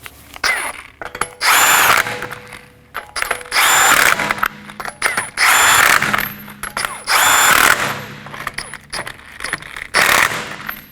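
An impact power tool snugs down 21mm lug nuts on a 2018-2024 Toyota Camry rear wheel, firing in repeated loud rattling bursts separated by short pauses.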